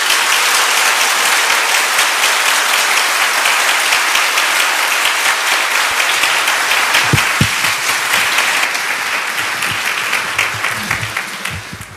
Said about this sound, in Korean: 우리 격려의 박수 드리겠습니다.